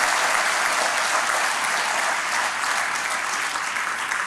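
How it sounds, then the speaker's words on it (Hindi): Dense, sustained audience applause welcomes a young IAS officer as guest speaker at an ashram event, loud and even throughout without any speech. "जोरदार तालियों के माध्यम से हम"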